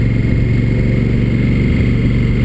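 A 2016 Honda Africa Twin motorcycle engine runs at a steady, loud throb, its deep rhythmic pulsing close to the microphone and held at a constant pitch without a clear rise or fall in revs.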